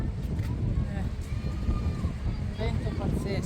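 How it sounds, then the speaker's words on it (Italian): Strong wind gusts along the Spanish coast near Africa roar steadily and loudly across the microphone, a continuous low buffeting rumble that never lets up. "Vento pazzesco"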